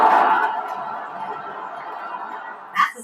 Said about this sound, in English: That's the sound of protesters today at Ohio State House.